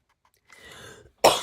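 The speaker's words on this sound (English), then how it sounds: "Didn't have a cough earlier." A single person coughs up close, a low muffled throat rasp followed by one sharp, loud cough burst at the end, with no talk.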